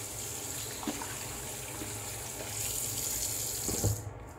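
Tap water running into a sink while shaving lather is rinsed off a face, a steady close splashing flow with a few louder splashes, no talking.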